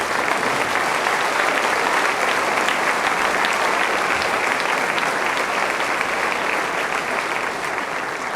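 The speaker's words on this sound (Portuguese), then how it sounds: "Aplaude o Senhor." Congregation applauding during a church service, a thick, steady wash of many hands clapping at once, loud and sustained for several seconds with no talk over it.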